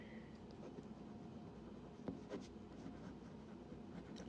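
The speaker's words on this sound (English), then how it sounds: "So I'm going to write down mine." A pen writes a wish down on paper, a very quiet, close scratching with a few soft taps, alone and without talk.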